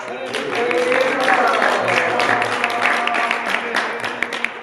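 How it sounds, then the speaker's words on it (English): Festival audience of devotees applauding in welcome of Srutakirti Prabhu, a sustained wash of clapping that swells and then thins, with scattered sharp claps near the end and voices murmuring underneath. "Give him a round of applause."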